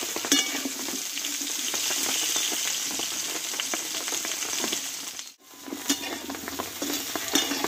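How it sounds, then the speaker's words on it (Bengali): Vegetable stalks and potatoes sautéing in a pan for a Bengali vegetarian curry, a steady dense sizzle with frequent scraping stirs of a spatula, one brief pause near the end, no voices. "ডাঁটাটা একটু আলুর সঙ্গে কষিয়ে নেব।"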